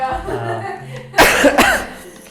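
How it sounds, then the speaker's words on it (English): A person at a new job coughs, a couple of sharp, harsh bursts close to the microphone, after a stretch of quiet talking. "A cough is a worry in these times."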